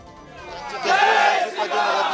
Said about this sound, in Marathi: पुण्यात जे कार्यालय आहे त्या कार्यालयाच्या बाहेर कार्यकर्ते जल्लोष करतायत